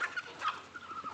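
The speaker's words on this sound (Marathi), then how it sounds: "चला भाऊ कोंबड्याला टाकला आता खायला." Chickens in a village yard pecking at food thrown outside on the ground, with fowl calls and gobbling-type clucks rising in short bursts, fairly close and moderately loud.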